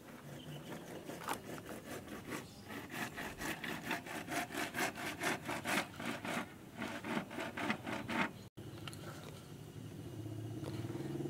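Holes are cut into PVC pipe for a capillary fertigation chili planter, with a rhythmic run of rasping, sawing strokes, close and steady, that stops abruptly and gives way to a low background hum.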